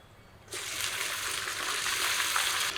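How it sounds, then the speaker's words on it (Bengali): Loud, continuous sizzling and crackling of free-range chicken frying in hot oil in a wok, starting suddenly and holding steady without any talking. "মাংসটা আমি কড়াইতে ঢেলে দেবো"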